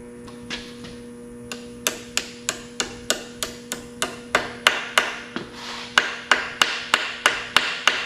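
Hammer tapping dowel pins into an LS engine block, about twenty sharp metallic taps in a steady rhythm that get louder toward the end as the pitch of the strikes changes, with a faint hum underneath.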